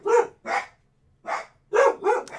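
Dogs barking close by, five sharp barks in two bursts with a brief pause between them, loud and with no talk over them.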